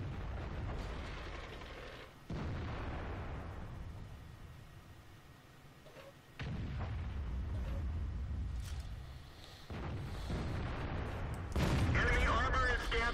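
Tank cannon shots from a Centurion Mk I in World of Tanks on the Karelia map, with several heavy booming reports separated by gaps, each followed by lingering rumble, under game voice callouts.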